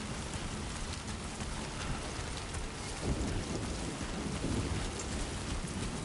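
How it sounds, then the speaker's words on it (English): Steady, dense rain pours throughout a video game scene, with low thunder rumbling beneath it and a slightly louder swell of thunder around the middle, all without any talking. "I know this rain is ridiculous, isn't it, Tam?"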